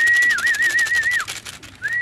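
Pigeons heard during a training session in Bambang, Nueva Vizcaya, giving a close, clear warbling whistle-like call with a wavering tone, then a short pause and another rising call.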